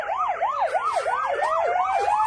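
Wailing police siren rising and falling in quick repeated sweeps, loud and close, with a second steady tone sliding slowly upward as the vehicle passes.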